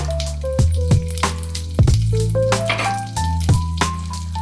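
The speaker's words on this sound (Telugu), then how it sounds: "శనగపప్పు మినప్పప్పు బ్రౌన్ కలర్ వచ్చే వరకు వేయించుకోవాలి" Chana dal and urad dal frying in oil with a pinch of cumin for katte pongal, a light sizzle broken by sharp metallic clinks and scrapes of a spatula stirring in the pan.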